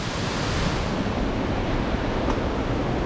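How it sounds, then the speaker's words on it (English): An unnamed waterfall roars on the Grand Canyon track in the Blue Mountains, a dense steady rush of water that fills the whole clip, loud and unbroken with no voices. "It's roaring. Oh, there's a waterfall here."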